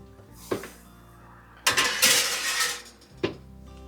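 A roasting tray holding goose fat goes into an oven, making a loud metallic clatter and rumbling slide as it is pushed in, framed by a couple of sharp knocks from the oven door.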